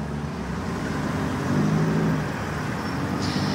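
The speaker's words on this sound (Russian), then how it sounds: "Здесь сейчас собрался затор." Congested road traffic at the city exit from Krasnoyarsk toward Solnechny forms a steady, dense rumble of idling and slowly moving cars and trucks, with a slight swell midway.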